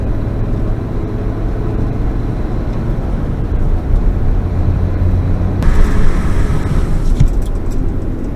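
1998 Fiat Coupe Turbo 20V running in third gear at about 70 km/h and 3,000 RPM, a steady droning engine and road rumble from inside the car that swells slightly toward the end, with no talk.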